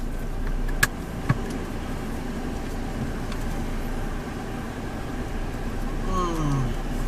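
A 2017 Toyota Fortuner VRZ SUV with a 2.4-litre automatic drives along, giving a steady low road and engine hum from inside the cabin, with a couple of sharp clicks early on.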